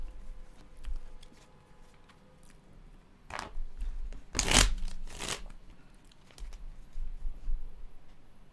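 Playing cards are shuffled in a few quick riffled bursts near the middle, bracketed by quieter handling and faint background noise, close and moderately loud with no talk.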